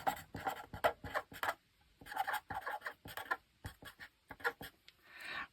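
Pen scratching across paper in quick bursts of strokes with short pauses between, close and crisp, with a soft rustle of the page at the end.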